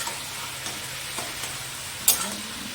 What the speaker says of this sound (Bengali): ভালো করে নাড়িয়ে নিচ্ছি। পটলের সাথে পেঁয়াজটাও ভাজা হবে।